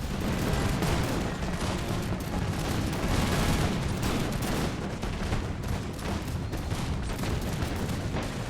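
Musket volleys roar across an American Revolution video game battlefield, a dense, unbroken barrage of overlapping gunfire cracks and booms that fills the whole stretch at a steady, loud level. No voices are heard.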